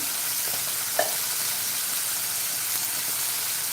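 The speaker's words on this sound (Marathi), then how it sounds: "हे सर्व मसाले चांगले असे परतून घेऊया आणि भाज्यासुद्धा चांगल्या परतून घ्यायच्या आहेत" Spices and vegetables sizzling and frying as they are sautéed in a pan for masale bhaat, a steady close hiss with a brief clatter of stirring near the one-second mark.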